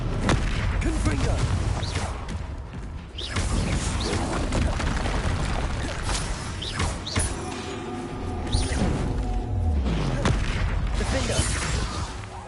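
Spell explosions blast and crash repeatedly through a Hogwarts Legacy battle, booming impacts layered over dense, continuous game combat noise with rumbling low end.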